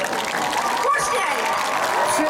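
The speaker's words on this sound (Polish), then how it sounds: "Wielkie brawa Państwu. Wielkie brawa!" Summer open-air concert crowd in Zamość applauds between songs, a broad wash of clapping beneath a host's loud amplified voice and ringing tonal sound.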